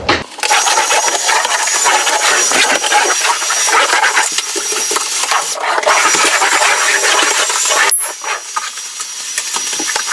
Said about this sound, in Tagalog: Vacuum time!